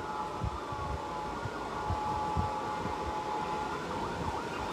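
Fire truck sirens wail continuously at a residential fire on Loyola Street in Sampaloc, Manila, a faint far-off rising and falling tone over a low rumbling street background.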